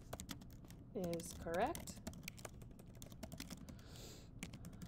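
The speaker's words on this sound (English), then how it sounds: "I'm just going to type this out in text just because that's a little bit easier" Rapid typing on a computer keyboard, a steady run of light close clicks, while a voice briefly talks over the keystrokes partway through.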